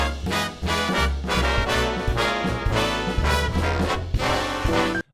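A full big band plays a swing arrangement: loud, dense brass and saxophone chords punch over drums and bass, ending abruptly after a few bars, with no voices.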